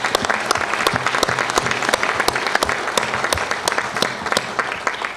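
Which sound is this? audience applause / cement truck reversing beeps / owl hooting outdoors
audience applause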